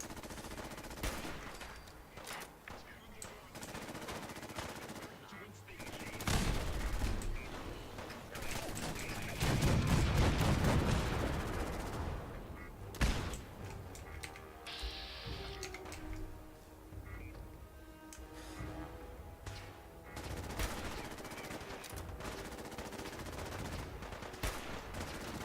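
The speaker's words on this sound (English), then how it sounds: "Let's try and find a nice safe place to snipe some of these guys from" Video game gunfire in Fallout, with bursts of rapid shots and scattered single reports over a busy, continuous game soundscape, moderately loud and sustained.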